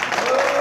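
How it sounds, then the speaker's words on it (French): Audience applause at an outdoor Mali independence day celebration, a brief dense burst of clapping heard up close with a steady tone running underneath. "Applaudissez pour Ben."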